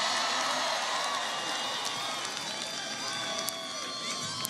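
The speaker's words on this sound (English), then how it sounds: "Can everybody please give Patrick a big round of applause for that great introduction?" A large crowd at an outdoor political rally in Philadelphia keeps up sustained applause and cheering, a dense continuous roar with scattered whoops.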